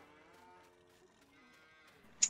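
A cow in Landwirtschafts-Simulator 19 lets out a long, low, tonal moo that fades, followed by a brief sharp click near the end, quiet and alone.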